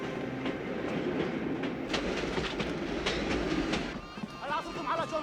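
Rumbling train noise with clattering wheels runs throughout, loud and close, while people talk and shout over it; a few brief tonal chirps near the end, from the 1985 film The Jewel of the Nile.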